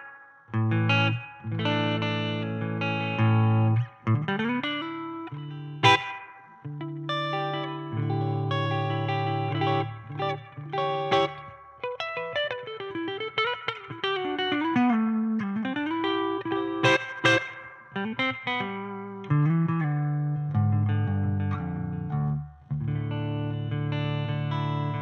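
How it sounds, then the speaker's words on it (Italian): An EVH 5150 Iconic Series guitar amplifier plays distorted guitar through its spring reverb, with chords and single notes ringing out and decaying in a washy tail between loud, steady phrases. "Sentiamo subito il riverbero a molla."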